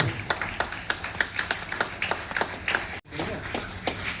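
An audience applauds medal winners at a national cycling conclave, steady rhythmic clapping from a modest crowd, close and lively, with voices murmuring underneath.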